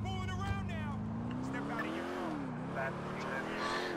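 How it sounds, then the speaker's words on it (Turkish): Stolen car driving in Grand Theft Auto IV, a steady engine drone with a rising and falling pitch as it accelerates, loud and continuous, with people talking over it. "Hemen çalalım abi arabayı."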